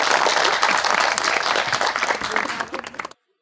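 A studio audience applauds during an interview with a cricketer, producing a loud, dense wash of clapping that holds steady and then cuts off abruptly near the end.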